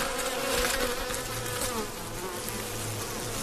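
A dense, steady buzzing of many bees, close and continuous, like a busy hive with no voices.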